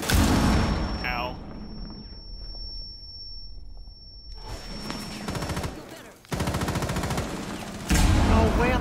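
Rapid video-game gunfire crackles in dense bursts, loud at the start and returning strongly in the second half around a quieter lull, with someone talking over parts of it.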